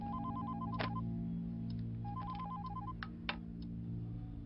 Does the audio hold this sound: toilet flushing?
no